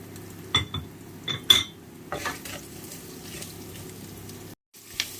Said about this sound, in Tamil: வெங்காயம், மல்லி, இதெல்லாம் வறுப்போம். அது கூட சேர்த்து இஞ்சி, சீரகம், பூண்டு இதெல்லாம் வறுக்கலாம்.